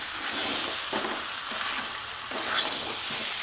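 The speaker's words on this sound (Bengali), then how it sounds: "এবার আমি আলুর সাথে কষতে থাকবো" Potatoes being stir-fried with ground cumin and coriander paste in a pan for a Bengali-style mutton curry: a continuous close sizzle with scraping and stirring strokes rising and falling in rhythm, no talking.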